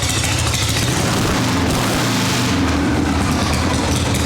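A 1974 Harley-Davidson Shovelhead FX with a drag pipe idles, a loud, steady, low rumbling exhaust heard up close with no break in the sound.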